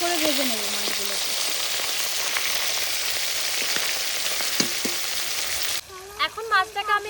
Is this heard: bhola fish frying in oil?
yes